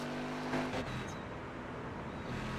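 Simulated Le Mans mixed-class endurance race cars in iRacing drone steadily as engines hold a continuous mid-volume roar, with a brief rise in pitch partway through and no talking.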